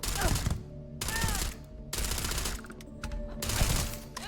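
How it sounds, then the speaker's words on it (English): Covering gunfire in the sci-fi video game Starfield: bursts of rapid automatic shots come in several separated volleys, close and punchy, with a few tonal whines between bursts. "Lay down the cover fire!"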